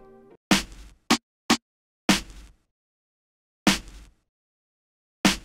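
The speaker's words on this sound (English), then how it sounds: "Then I lay down the snare. So all the snares together sound like this." Snare drum pattern for a soul hip-hop beat: sparse, punchy snare hits with a short noisy tail, some single and some in quick pairs, loud and dry against silence, with a faint tonal sound at the very start.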